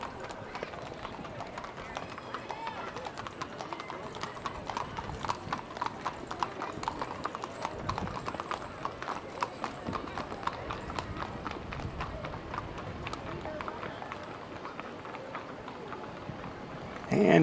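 Horses' hooves of a mounted patrol clip-clop steadily on hard ground as several animals pass in a fair parade, with voices murmuring in the background.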